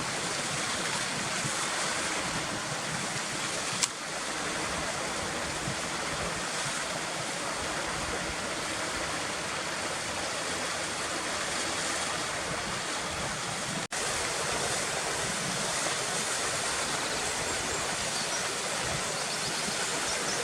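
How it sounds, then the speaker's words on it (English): A waterfall in the Harthope valley gives a steady, dense rush of falling water. It sounds close and fairly constant, with a couple of sharp clicks and no voices. "Just past the first waterfall there's another one just directly behind it."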